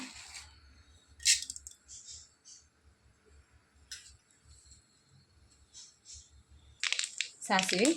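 Mustard seeds splutter in hot coconut oil for an ivy gourd stir-fry: scattered sharp pops and crackles, fairly faint and sparse, over a low steady hum, with a denser burst of popping near the end.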